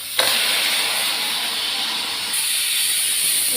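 A steady, loud hiss of steam rushes continuously from a pot of boiling lentils, close by and unbroken, with no voices.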